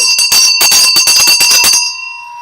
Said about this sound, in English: So Raymond and Daniel, can I ring my bell now?